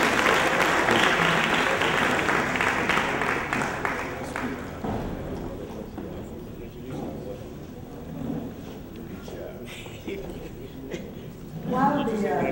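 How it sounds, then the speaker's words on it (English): Audience applause for the chairman at a 2012 SOAFSE opening address, a loud dense wash of clapping that fades over the first several seconds into room noise, with a voice talking toward the end. "Can we have another round of applause for our chairman?"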